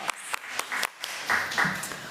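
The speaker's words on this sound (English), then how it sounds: "Let's give Mr. Amaga a round of applause." Scattered applause from a small audience at a school board meeting, a few separate hand claps heard at a distance, fairly quiet, with some talk over them.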